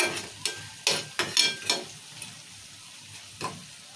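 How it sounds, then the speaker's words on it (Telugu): Bottle gourd pieces fry in oil as turmeric is stirred in, with a low sizzle broken by a series of spatula scrapes and knocks against the pan, several close together and then one more after a pause. "పసుపు వేసుకొని ఒకసారి కలుపుకొని"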